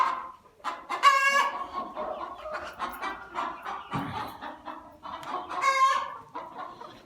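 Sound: chickens clucking in a coop

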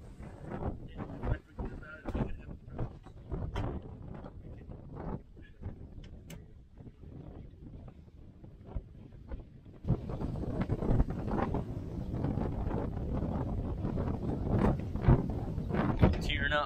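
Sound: wind blowing

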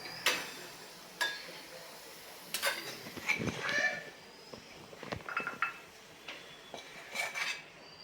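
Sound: transferring cooked potato vada filling into a bowl

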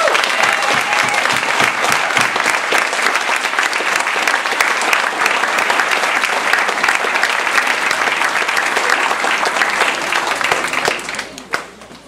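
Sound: audience applause for contestants

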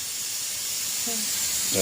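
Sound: pressure cooker hissing while boiling potatoes

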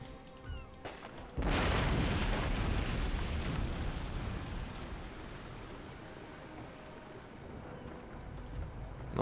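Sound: 74-gun warship exploding in Napoleon: Total War video game

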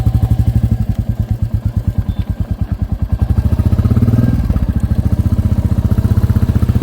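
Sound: motorcycle engine running

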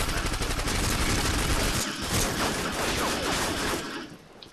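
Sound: gunfire in Call of Duty MW2 video game

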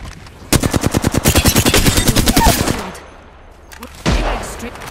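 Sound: gunfire in the video game Horizon

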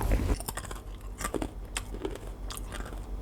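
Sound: chewing crispy baked vegetable snack

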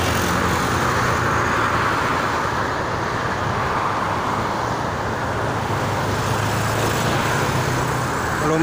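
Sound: traffic of cars and cargo trucks on Jakarta-Cikampek toll road

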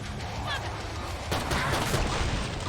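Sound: gunfire in the video game Killing Floor 2

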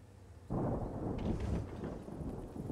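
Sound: thunder in World of Tanks video game

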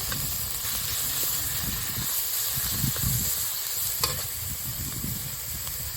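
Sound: onion paste frying in oil

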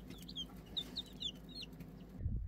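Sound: barnyard mixed chicks peeping

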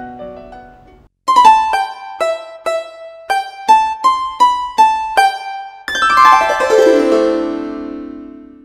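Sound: dan tranh zither voice on Kurtzman K350 keyboard

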